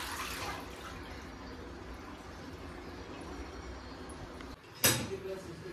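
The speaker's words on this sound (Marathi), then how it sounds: "आता तो 3-4 पाण्याने धुवून घ्यायचा" Grated potato rinsed under running tap water in a home kitchen gives a steady, soft hiss of flowing water throughout, ending with a brief sharp clatter near the end.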